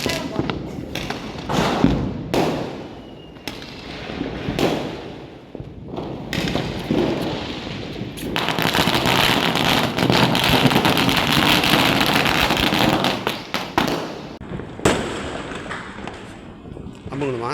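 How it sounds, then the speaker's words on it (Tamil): Firecrackers are set off during a Diwali celebration, with several sharp bangs and thuds, then a long rushing, crackling burst of about six seconds, all under wind noise and voices. "അടുത്തത് നമ്മൾ പട്ടാസു വെടിக്க போகிறோம்"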